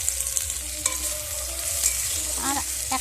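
Snakehead fish fries in hot oil in a wok, giving a steady close sizzle with a few sharp clinks and scraping stirs across the pan and no voices.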